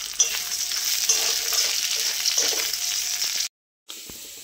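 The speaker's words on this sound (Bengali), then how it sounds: "এইবারে আস্তে আস্তে নাড়তে থাকবো।" Chilli chicken masala with vegetables fries in a pan while being slowly stirred, giving a steady close hiss of sizzling oil with soft spatula scrapes, ending in a brief drop to silence.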